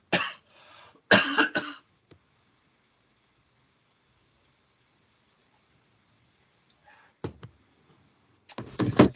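Someone coughs in short harsh bursts, a few at the start and again near the end, with quiet stretches between.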